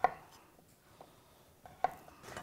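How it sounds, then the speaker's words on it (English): Knife slicing microwave-parboiled russet potatoes into wedges on a board, giving a few sharp, close cuts spaced apart with quiet gaps between them. "And we'll cut these into wedges."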